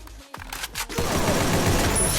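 Video game gunfire rattles out in a dense automatic burst after a few scattered shots, loud and continuous through most of the moment with no clear talk.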